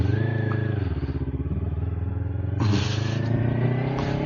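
A Kawasaki Ninja 400 motorcycle engine runs at a steady idle with an even, buzzy throb, heard close, with a slight rise in revs partway through.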